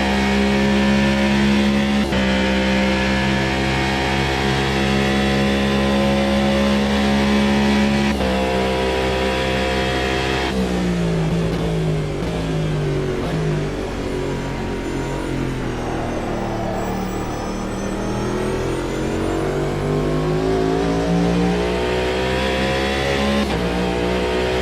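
A race car engine drones loudly and continuously in the Automobilista 2 racing game, its pitch climbing and dropping through gear shifts and braking for corners, close and unbroken for the whole stretch.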